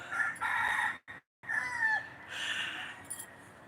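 A rooster crows loudly and close, one long cock-a-doodle-doo broken by a short gap, then a second crow trailing off, with no talking over it.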